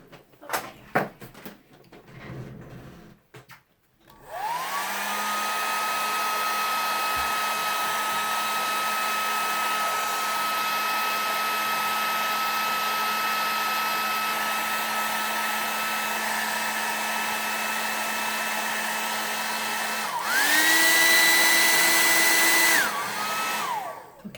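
A hair dryer blows on a watercolor painting of leaves, starting after a few handling knocks and running as a steady loud whine for about fifteen seconds, then briefly switching to a higher, louder setting before cutting off.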